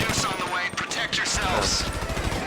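Dense, rapid automatic gunfire in GTA V Online during a prison-break heist rattles loudly and continuously, with overlapping bursts from several guns and a voice faintly underneath.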